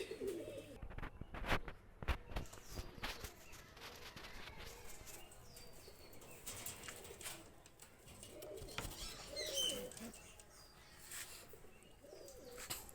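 Pakistani highflyer pigeons being released outdoors, with soft cooing, scattered chirps and brief wingbeats rising over steady background noise, no talking.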